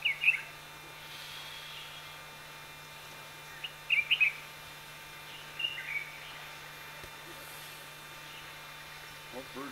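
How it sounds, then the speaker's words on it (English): Birds chirp in short bursts in an outdoor setting in Tanzania, with several separate twittering calls spread over a quiet background carrying a steady low electrical hum. "What bird's that?"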